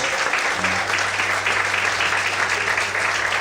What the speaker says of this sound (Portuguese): Aleluia, aplauda o Senhor em voz.